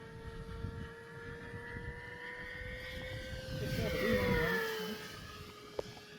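An RC model airplane with a P-51 style body flies with its electric motor running, a steady whine holding pitch that swells as the plane passes closer, heard against wind noise and outdoor ambience.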